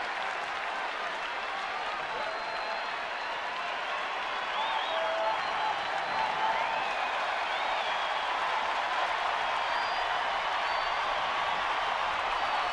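A big crowd at a Rockies–Giants baseball game in San Francisco keeps up sustained cheering and clapping, a dense, even roar from the whole stadium that rises slightly midway, with faint whistles and voices mixed in.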